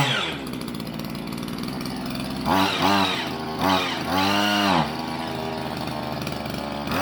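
An old, rusty two-stroke engine saved from the scrap heap and restored runs close by with a raspy buzz, idling roughly and then revving up twice in quick, rising bursts before settling back.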